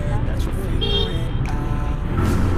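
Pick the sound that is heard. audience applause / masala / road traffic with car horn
road traffic with car horn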